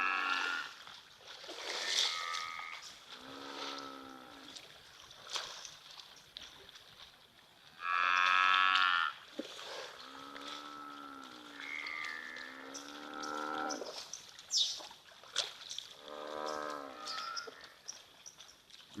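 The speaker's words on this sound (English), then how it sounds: "Emily Rose, they do sound like cows, but they definitely will do some way more serious damage than a cow would." Buffalo lowing at a wild waterhole, a series of deep, drawn-out moos like cattle, repeated calls of moderate loudness with a gap of background noise between them.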